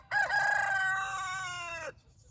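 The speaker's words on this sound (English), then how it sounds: "there's a rooster crowing over there when I drove up" A single rooster crows one long, drawn-out call with a rolling, R-rolling quality, fairly close and clear, ending abruptly into quiet.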